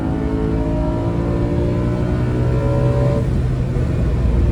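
BMW M3 E92 V8 engine accelerating, a loud steady drone whose tone climbs through the revs, then drops briefly as if shifting gear, heard from inside the car without talk.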